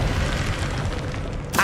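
Bombarda spell explosion from the Hogwarts Legacy video game: a steady, loud rumbling blast that holds for over a second before a sharper burst cracks at the very end.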